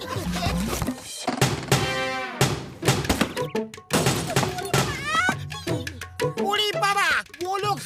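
Cartoon characters get beaten in a comedy scene. Rapid thumps and smacks fall in rough bursts among shouting voices and sliding cartoon sound effects.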